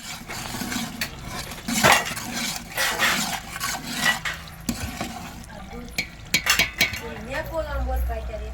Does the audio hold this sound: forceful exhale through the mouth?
no